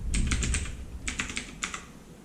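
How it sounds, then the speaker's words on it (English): Mechanical computer keyboard typed on in a quiet room during a Raspberry Pi 4B setup, with two or three short bursts of crisp clicking keystrokes separated by brief pauses, close and clear with no talk. "I almost forgot how good this mechanical keyboard feels"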